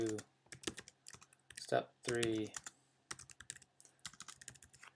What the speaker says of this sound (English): I'm typing up whatever I want to put there.